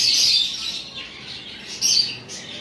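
Small birds in a pet bird shop chirp and tweet in bright, close bursts, with a loud flurry at the start and another near the end.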